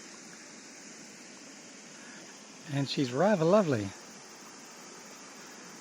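Mokihinui River water flowing in a steady, broad rushing hiss that runs unbroken through the whole stretch, with a person briefly speaking over it midway.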